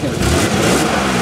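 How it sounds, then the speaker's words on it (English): Car engine revved a couple of times right after an oil change to build oil pressure, a loud close rising drone filling the short moment. "rev it up 2 times. Get that oil pressure in there."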